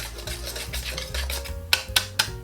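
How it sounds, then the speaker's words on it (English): Whisking blends a creamy potato salad dressing in a bowl: a soft, continuous scraping and rubbing close by, ending in a few sharper clicks of the whisk against the dish. "Keep whisking till everything's blend together."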